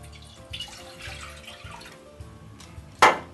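Milk trickles and splashes softly into a saucepan for rum rice pudding, ending with a brief louder gush, with faint kitchen clatter underneath.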